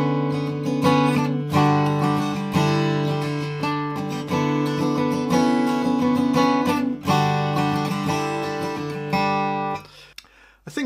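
An acoustic guitar plays the intro of a song in standard tuning, close and clear, with ringing picked chords in a steady rhythm, briefly pausing once and ending with a short fade.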